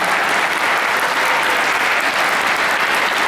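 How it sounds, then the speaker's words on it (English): Dense, loud applause from a large crowd at a Six Flags Fiesta Texas event, a continuous wash of clapping that holds steady throughout. "please give them a big round of applause for the countless hours."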